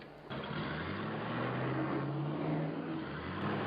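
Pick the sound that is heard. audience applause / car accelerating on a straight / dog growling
car accelerating on a straight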